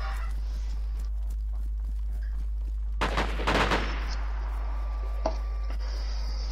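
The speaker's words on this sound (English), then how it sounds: "I shot him twice with a shotgun." Shotgun blasts fire in quick succession in the DayZ video game, a pair of loud, close booms over a constant low hum, with a faint single crack a moment later.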